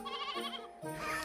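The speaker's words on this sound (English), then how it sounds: "shepherds take care of sheep" A sheep bleats twice in quick succession, a wavering, nasal cry that is fairly faint and heard alone without talk.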